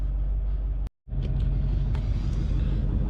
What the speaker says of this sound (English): So I'm gonna let it warm up and we're gonna go for a test drive.